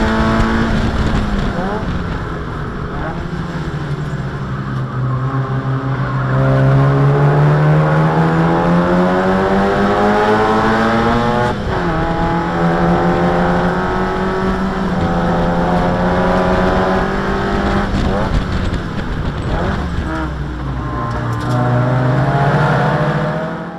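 Race cars on the Thunderhill track, including a Miata and an RX-7, with a loud, sustained engine drone that rises and falls through gear changes and shifts in throttle, recorded from inside a car with no break in the roar.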